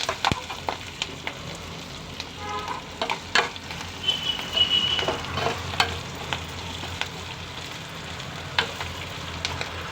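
Raw plantain and onion pieces frying in a pan of oil, a moderate sizzle with repeated clicks and scrapes of stirring and a brief higher hiss partway through, close and with no talking.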